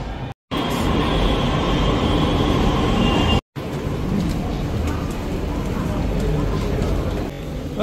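Train travel in Delhi: a steady, loud rumble and roar of a moving train heard from inside, with brief dropouts and people talking over the running noise.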